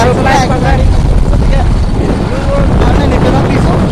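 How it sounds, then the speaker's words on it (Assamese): A motorbike ride on a road trip toward a waterfall in Nagaland, with a continuous loud rush of wind and engine noise buffeting the microphone throughout. "মই আজি বাইক চলাই আছোঁ"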